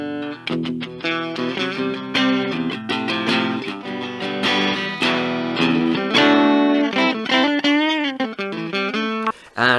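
Electric guitar played through a Blackstar Fly 3 mini amp on a rounder, fuller middle setting, with a run of plucked notes, chords and bends in a lively distorted tone, loud and close with no talking.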